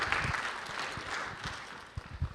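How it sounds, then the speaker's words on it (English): Audience applause at a life science startup summit conference, a fairly quiet, steady wash of clapping lasting a couple of seconds with a few louder claps near the end. "Big applause."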